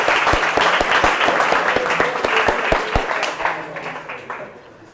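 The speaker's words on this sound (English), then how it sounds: "Please clap for yourself" A room of people at a leadership masterclass applauds in a dense, steady patter that stays strong for several seconds and then thins and fades away near the end.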